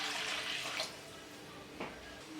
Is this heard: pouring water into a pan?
yes